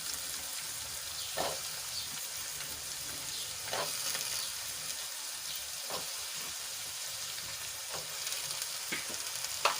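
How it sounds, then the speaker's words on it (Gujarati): Brinjal and cowpeas sautéing in oil in a pan for a traditional Gujarati dish, a constant close sizzle with occasional soft stirring scrapes. "હવે એમાં આપણે રીંગણા એડ કરી દઈશું"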